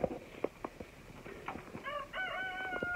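Farm chickens cluck in short scattered bursts, joined partway through by a rooster's drawn-out crowing, all fairly close and moderately loud with no voices.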